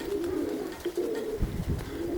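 A pigeon coos up close in a few low, soft, throaty phrases with short pauses between them, quiet and alone.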